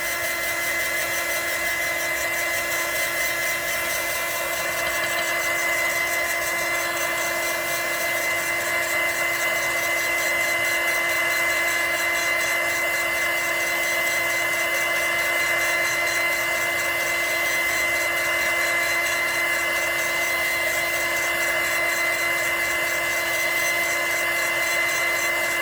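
A hair dryer blows steadily and loudly across a rainbow alcohol ink painting, one unbroken whirring drone with no pauses and no voices.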